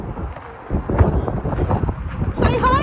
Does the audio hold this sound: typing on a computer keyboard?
no